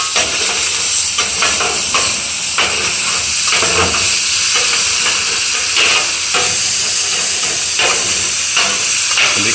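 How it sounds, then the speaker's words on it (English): Sausage sizzles in olive oil on a Blackstone griddle, a loud, continuous hissing roar that stays dense and even throughout, with faint irregular crackles riding on top. "Here we go, olive oil into the sausage."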